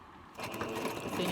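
Sewing machine back stitching through tulle for a tutu, starting abruptly after a short quiet moment and running as a fast, close mechanical whir with rapid needle clatter.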